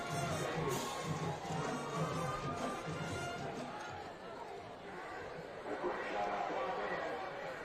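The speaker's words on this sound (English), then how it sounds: "Loud crowd, bands playing, cheerleaders." Loud crowd noise at a Friday night high school varsity football game in Peabody, a steady wash of chatter, shouts and cheering with band and cheerleaders in the mix, holding level throughout.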